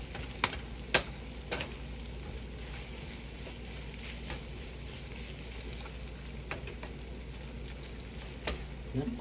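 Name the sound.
corned beef with potatoes sautéing in a pan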